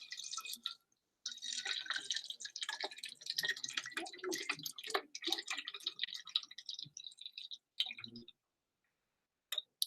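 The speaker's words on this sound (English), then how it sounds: "I'm going to take my clear, clean water bottle with the labels removed and add about 2/3 of the way up of hot water" Hot water pours into a clear, clean plastic water bottle with its labels removed, filled about two-thirds full, giving a close, steady splashing and trickling that slows into scattered drips near the end.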